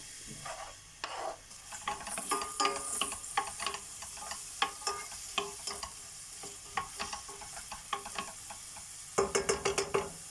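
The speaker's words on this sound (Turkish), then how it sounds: "soğanlarımızı kavuralım" Onions sizzle softly in a pot while a spoon scrapes and stirs with repeated clicking taps, close and steady.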